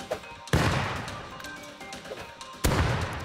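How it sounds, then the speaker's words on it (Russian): Gunfire in a survival shooter game: two sharp, loud broadband shots about two seconds apart, each followed by a ringing decay, with faint clatter between them and no talking. "По мне стреляют."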